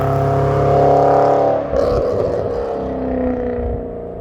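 Audi S6 Plus Avant driving hard, its engine roaring loudly and steadily under acceleration, then a brief shift and the note continuing close and strong.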